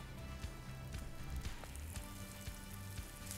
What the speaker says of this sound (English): from the egg wash into the batter and then throw it right into the pan